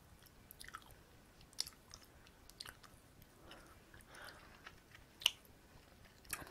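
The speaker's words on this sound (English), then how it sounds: "I'm trying to make some chewing kind of mouth noises." Close, wet chewing of sour chewy candy, with soft irregular bites, squishes and lip smacks spaced through a quiet background.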